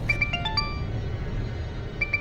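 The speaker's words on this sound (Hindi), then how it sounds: "फोन।" Mobile phone ringtone chiming in a short rising electronic melody, repeated after a pause, moderately near over low room murmur, no speech.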